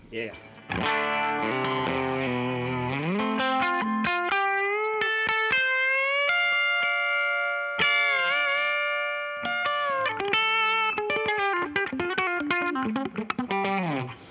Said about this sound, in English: You can hear that there's a lot of compression on that right now.